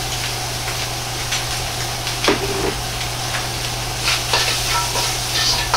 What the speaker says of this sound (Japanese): にんにく生姜を入れます